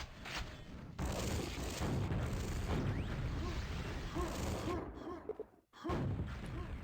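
Grenade explosions in a QuakeWorld duel, a run of heavy blasts and booms that come in a sustained barrage, then a brief drop to near silence before another burst hits.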